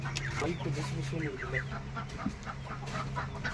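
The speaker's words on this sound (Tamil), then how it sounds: "சில்கி கோழி வந்திருக்கு." Silkie chickens cluck and murmur softly nearby, with people talking over the birds throughout.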